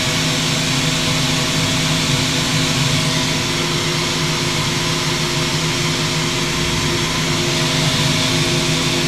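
Steady, loud broadband rush and hum from a CNC machine as the coolant is switched on and flows during live cutting, continuous and close, with no talk.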